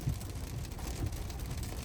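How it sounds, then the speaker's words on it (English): Rain patters steadily on a Ford Lightning pickup while it drives at night in a rainstorm, a constant hiss and drumming under low road rumble, no voices. "You get a little bit of a rainstorm here."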